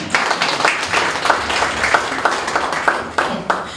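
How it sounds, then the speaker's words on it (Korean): Applause from a lecture audience at a Korean CEO-course talk, a brief scattered round of clapping with uneven slaps from many hands, fairly close and steady with no voices over it. "박수가 나와야 돼요"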